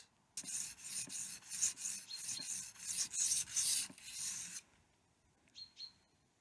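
A steel knife blade is honed on a sharpening stone in a run of rhythmic, raspy strokes, about a dozen close scrapes, then stops; faint bird chirps come in at the end.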